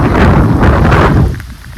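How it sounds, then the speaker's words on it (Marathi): Loud, dense heavy rain at Rangana Fort with a deep rumbling roar beneath it, steady throughout before easing slightly near the end; no voices. "पाऊस खूप आहे"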